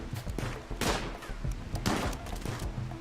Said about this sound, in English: we are taking so much fire.